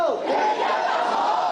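A protest crowd in Victoria Park, Hong Kong, chanting and cheering together at a rally led from the stage by organizers, a dense sustained roar of many voices filling the whole short stretch.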